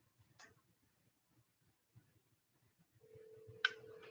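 A telephone being dialed and then ringing, with a faint button beep, a quiet stretch of soft ticks, then a steady ringback tone and another sharp beep, close and quiet in a room.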